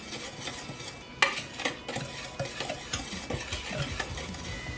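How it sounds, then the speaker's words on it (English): Flour and other dry ingredients being whisked with salt in a bowl for banana nut bread, a close run of quick rhythmic scraping strokes that starts after a brief quiet moment. "And I'm going to whisk these together."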